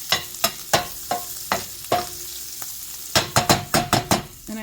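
Frozen hot dog pieces fry in a pan with a steady sizzle, broken by repeated sharp scraping knocks of stirring, spaced out at first and then coming in a quick cluster.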